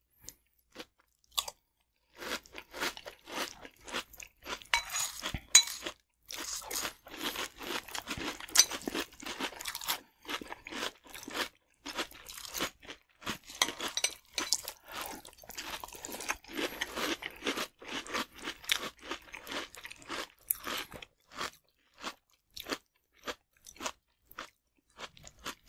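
Ricicles, sugar-coated Rice Krispies cereal, crunched and chewed close to the mic: rapid, dense crisp crackles in irregular bursts with brief pauses, loud and dry, no talking.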